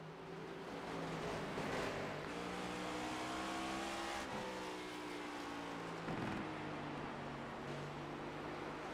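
A race car at Five Flags Speedway held in fourth gear all the way around the track, its engine droning loud and continuous with rising and falling pitch and no downshifts, under steady track noise.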